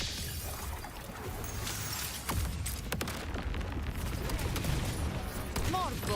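Rapid bursts of gunfire in the Wuthering Waves game crackle and pop amid shattering impacts and combat effects, loud and dense throughout, with a voice speaking during the fight.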